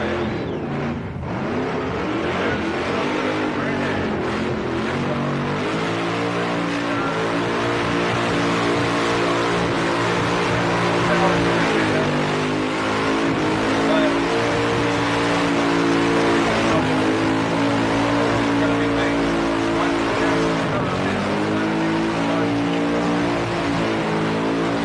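A 1980s street machine that normally runs huge tyres, revving and roaring at Summernats: a loud, continuous engine drone with slow pitch swells as the throttle rises and eases, sustained for nearly half a minute, with no talking.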